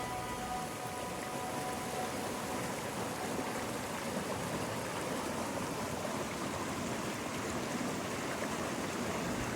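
The Rangpo River in East Sikkim, a voluminous mountain river, flows with a steady, broad rushing roar that stays even and full throughout, with no talk.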